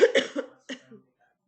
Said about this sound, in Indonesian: kasihan itu batuk